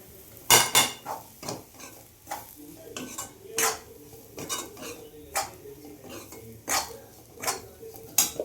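A spoon clinks and scrapes against a bowl while ingredients are mixed with poppy seeds, spice masala and chilli powder, in irregular nearby taps and knocks with no talking.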